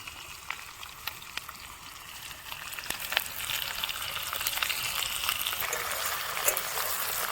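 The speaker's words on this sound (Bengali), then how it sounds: "আলু আর পেঁয়াজটা আমি একসঙ্গে ভাজবো।" Potatoes and onions fry together in a pan, giving a steady bright sizzle with scattered sharp crackles and pops that grow busier and louder toward the end, with no voices.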